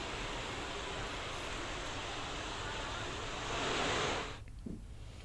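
Heavy rain pours over flooded city streets in Bhopal, a dense, steady rushing hiss of water that eases slightly near the end.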